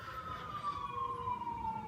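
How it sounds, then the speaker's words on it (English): A distant emergency vehicle siren wails steadily outdoors, a single drawn-out tone slowly falling in pitch over low traffic rumble, with no talking. "Don't mind the sirens."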